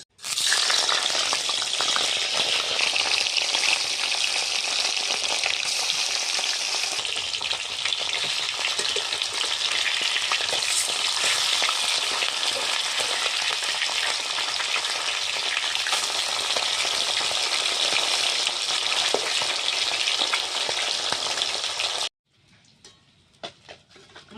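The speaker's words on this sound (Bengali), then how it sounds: "কড়াতে আমি তেল দিয়ে দিচ্ছি মাছ ভাজার জন্য" Bata fish fry in hot oil in a wok with a loud, dense sizzle and crackle that holds steady for over twenty seconds, then cuts off abruptly into near silence with a few faint clicks.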